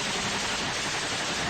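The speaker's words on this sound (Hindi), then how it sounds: "एक लड़ाका मशीन गन से एक तरफ ताबड़तोड़ गोलियां चलाता दिखाई दिया।" Machine gun fire in the Russia–Ukraine war near Mariupol, a dense, continuous burst of rapid gunshots that fills the short stretch loudly with no speech.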